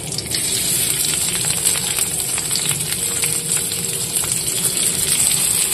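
Onions tipped into hot oil already holding cumin, dried red chilli and garlic, giving a loud, steady frying hiss and crackle that runs unbroken throughout with no voices.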